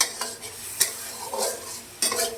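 Chopped radish fries in masala in a pan while a utensil stirs it. A soft sizzle runs underneath several sharp scraping strokes, close and with no talking.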